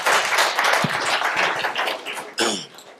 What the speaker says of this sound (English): So give Wilson a round of applause.